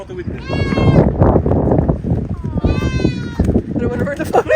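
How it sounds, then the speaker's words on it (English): Goats standing in an argan tree in Essaouira, Morocco, give two loud, close, wavering bleats over a noisy outdoor background with people talking. "These are the goats on the tree."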